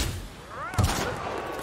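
Gunfire in the video game The Outer Worlds, a few muffled shots and a booming impact mixed with sweeping whine effects in a short, busy burst.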